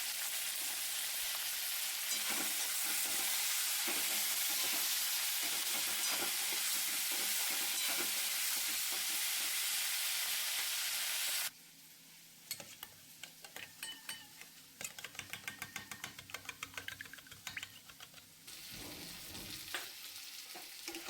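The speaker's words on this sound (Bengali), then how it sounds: "নুন হলুদ দিয়ে আমি ভেজে নেব পেঁয়াজগুলিটা" Onions frying in oil with salt and turmeric give a steady, loud sizzle for about half the time. Then comes a quieter stretch of intermittent stirring and scraping, with softer crackling underneath.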